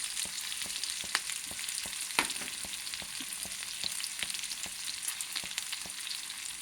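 Green chilies, onions and curry leaves sizzle in a pan with a continuous close hiss. Regular light ticks of stirring repeat throughout, with no talking.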